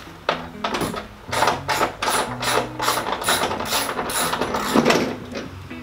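A ratchet clicks steadily while a bolt is worked loose during panel work on a Talon, making a loud, close series of rapid metallic ticks in repeated strokes.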